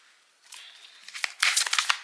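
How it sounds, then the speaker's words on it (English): Several decks of oracle cards being shuffled together, soft papery riffles and slaps that build into quick, crisp flutters, close by and alone. "I'm just going to shuffle them all in first"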